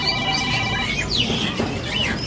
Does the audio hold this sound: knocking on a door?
no